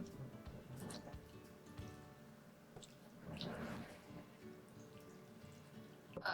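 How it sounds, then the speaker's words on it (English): Water poured onto a houseplant, soft quiet trickling and dripping with a few squishy splashes, close and faint, with no talking. "I'm just going to give this one a drink of water."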